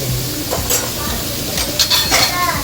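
Onions sauté in a hot pan for paneer butter masala, giving a dense, loud, continuous sizzle with occasional spatula scrapes and clinks near the end.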